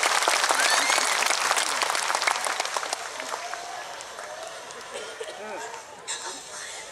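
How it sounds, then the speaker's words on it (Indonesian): A crowd at a religious lecture in Ponorogo claps loudly at first, the applause thinning and fading over a few seconds as murmuring voices remain. "Tepuk tangan meneh kok."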